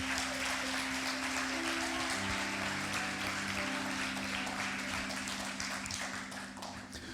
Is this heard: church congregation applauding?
yes